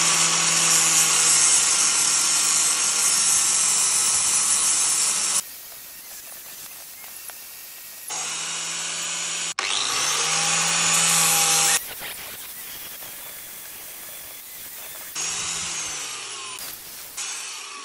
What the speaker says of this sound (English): I could probably just spin that by hand and just keep the grinder on there.